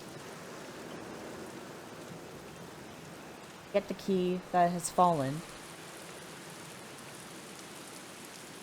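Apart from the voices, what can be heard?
rain in the video game Black Mirror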